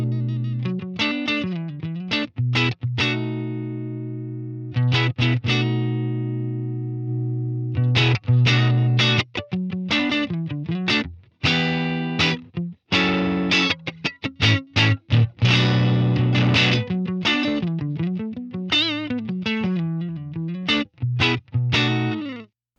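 Distorted electric guitar through an HX Stomp amp and cab model with a 121 ribbon mic set back off-axis, playing chugging chords and sharp stabs with brief pauses, loud and close with no talking.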